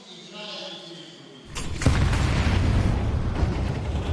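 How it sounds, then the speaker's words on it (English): Grenades burst early in a competitive CS2 esports match, a sudden loud boom followed by a sustained rumbling blast and crackle, heard with voices talking around it. "Early nades."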